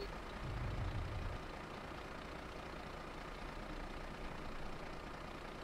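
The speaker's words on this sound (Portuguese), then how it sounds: "deixa o caminhão ligado" A truck engine idles in Euro Truck Simulator 2 with the ProMods map add-on, a steady low diesel rumble that stays constant throughout, with a brief heavier surge near the start.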